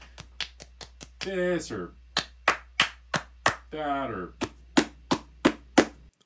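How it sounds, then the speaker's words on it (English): Hand clapping in many different styles, sharp single claps in an irregular rhythm alternating with two brief bursts of rapid rippling claps, close and fairly loud, with a voice speaking briefly between them. "Think of all the different clapping sounds you can make with your hands"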